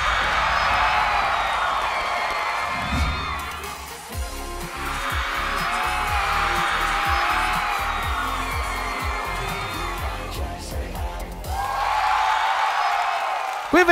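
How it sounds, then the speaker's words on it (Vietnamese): A studio audience claps and cheers for Vũ Thịnh on the show Anh Trai Say Hi, a steady crowd roar in waves with a brief dip, while a host's voice talks over it. "Một tràng vỗ tay cho Vũ Thịnh."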